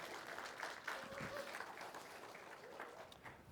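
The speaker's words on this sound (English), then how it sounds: "Y'all give them a round of applause for the hard work." Audience applause at a Sunday church service, a faint, distant patter of clapping with some voices murmuring underneath.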